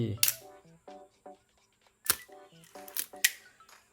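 An Olympus OM-1 film camera shutter fires repeatedly at B setting, giving several sharp mechanical clicks and clacks with metallic ringing between them, close up and alone.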